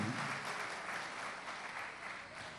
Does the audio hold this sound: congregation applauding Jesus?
yes